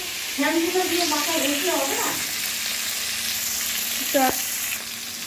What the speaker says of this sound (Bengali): ওই তেলেই আমি কিন্তু এবার আলুটাকে ভালো করে ভেজে নেব লাল লাল করে